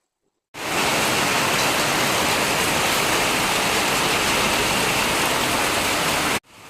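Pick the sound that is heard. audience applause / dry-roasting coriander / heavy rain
heavy rain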